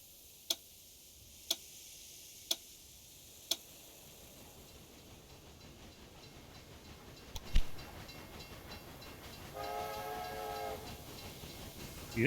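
A train rolls along a track in the Railroad Empire 2 game, with a loaded freight train passing near the Thames. Four evenly spaced ticks come first, then a low rumble that swells, a sharp knock, and a rising mechanical hum.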